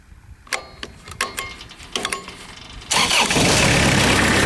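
A trailer-mounted 2007 Finn B70T straw blower engine is cranked with a few stuttering starter attempts, then catches and settles into a loud, steady running roar close by.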